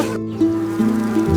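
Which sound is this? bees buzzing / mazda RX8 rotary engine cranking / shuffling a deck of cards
bees buzzing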